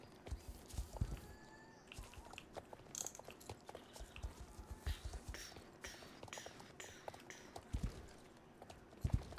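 Light video game horse hoof clops on a hard surface in Star Stable, scattered and irregular, mixed with soft crunching and small clicks, moderately close in a quiet setting.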